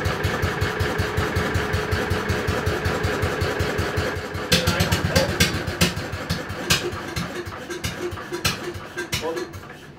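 A 1960s microcar engine test-fires after a carburetor refit, chugging in quick, regular low pulses before revving up into rougher, louder bursts with scattered metallic clicks, heard up close.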